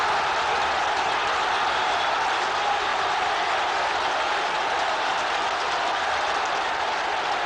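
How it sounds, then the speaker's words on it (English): A Rangers football crowd at a Rangers v Celtic match roars after a goal, a loud, dense, continuous wall of cheering that never lets up. "The Rangers crowd going absolutely mad."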